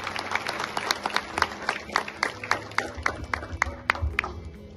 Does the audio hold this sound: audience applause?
yes